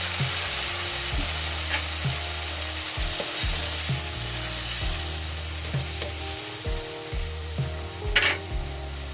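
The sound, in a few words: soy sauce poured into frying string beans (adobong sitaw)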